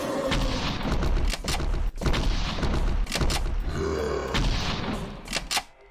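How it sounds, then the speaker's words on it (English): Shotgun blasts fired at a huge zombie-like monster in the 2009 zombie shooter Trait 17, a series of loud, dense booming shots close together, with grunts and thuds mixed in and no talk. "We're going to use the shotgun for Dante."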